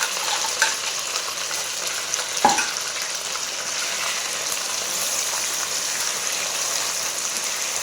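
Semolina roasts in a pan for halwa, a steady close sizzle under continuous stirring with one brief clack of the spoon against the pan.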